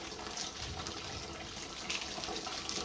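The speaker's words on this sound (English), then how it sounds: "the pot's still filling up slowly" Tap water runs steadily into a cooking pot being filled slowly for a seafood boil, a continuous broadband rushing hiss with no voices over it.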